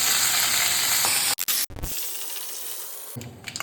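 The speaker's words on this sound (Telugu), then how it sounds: "మామిడికాయ పచ్చడిలోకి తిరువాతకు గంట నూనె పోసుకోవాలి. ఆవాలు, ఒట్టిమిరపకాయ, తెల్లవాయలు, కొంచెం కరివేపాకు వేసుకోవాలి." Mustard seeds, dried red chilies, urad dal and curry leaves crackle and sizzle loudly in hot oil as tempering for a raw mango pachadi, with sharp bursts, a brief cut-out and renewed spattering, close and without talk.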